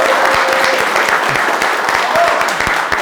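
A large audience claps loudly and steadily for a mother seated in the crowd at a talk show taping, dense applause sustained throughout with scattered sharp claps standing out.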